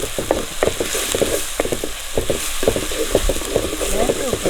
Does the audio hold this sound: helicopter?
no